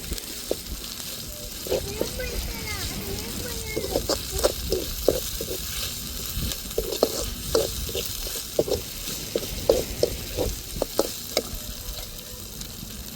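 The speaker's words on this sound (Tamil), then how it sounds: "நம்ம அம்மிலேயே அரைச்செடுத்த இஞ்சி பூண்டு நல்லா தாளிப்பில் வதக்கி விட்ருவோம்" Ginger-garlic paste, freshly ground on a grinding stone, frying in tempering oil with a steady sizzle, broken by irregular scraping stirs and soft clinks of a spoon against the pan.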